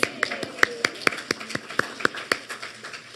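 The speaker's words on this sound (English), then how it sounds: "Give them a round of applause." A small group claps for new team members lined up at the front of a room, sparse distinct claps ringing out in an uneven rhythm with a few louder ones, over soft background chatter.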